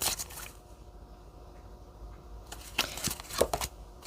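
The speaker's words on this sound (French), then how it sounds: "je voulais prendre une carte du tarot psychique" Tarot cards riffled and shuffled close up, a soft papery flutter with brief slaps and rustles as cards are drawn, quiet and without talk.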